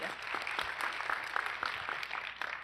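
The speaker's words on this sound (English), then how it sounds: "Can we give her a little round of applause" Conference keynote audience giving a short round of applause for a speaker, scattered faint clapping with individual sharp claps standing out at a distance.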